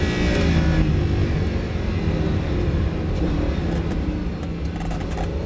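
Lamborghini Huracan 610-4 on a race circuit under braking and downshifting, a continuous loud engine roar with shifting revs, no talk over it.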